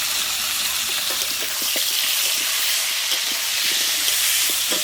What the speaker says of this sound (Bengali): আলুগুলো সুন্দর করে ভেজে নেবো